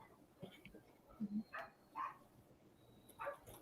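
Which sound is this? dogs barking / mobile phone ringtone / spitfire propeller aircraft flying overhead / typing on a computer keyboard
dogs barking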